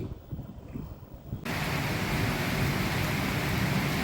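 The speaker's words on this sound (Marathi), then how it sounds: "सोलापूर जिल्ह्यामध्ये मुसळधार पाऊस पडत आहे" Quiet outdoor ambience in Solapur district suddenly gives way to a dense, steady roar of heavy rain that continues loudly and evenly.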